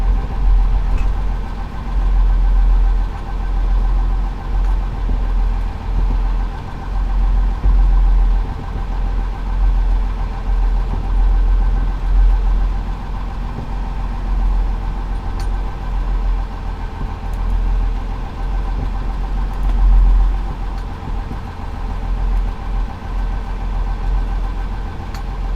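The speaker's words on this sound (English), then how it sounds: "That's just a much higher idle speed." A Cummins engine holds a high idle with a steady, close, throbbing low rumble and no change in pace, running alone throughout.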